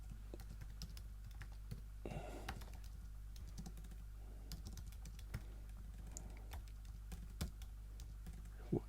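Keys clatter on a computer keyboard in quick, uneven taps, close by and fairly soft, over a low steady hum.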